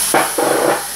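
Vinegar poured into a hot pan of beef, giving two close, loud bursts of hissing sizzle that rise quickly and hold.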